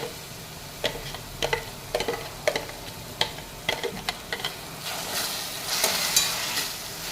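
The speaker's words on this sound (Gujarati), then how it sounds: "હવે આ ચડી ગયા છે એટલે આપણે નાખશું કાંદાની પેસ્ટ." Onion paste sizzles in a hot pan while a utensil stirs and scrapes, giving irregular clicks and taps over a continuous frying hiss that grows brighter near the end.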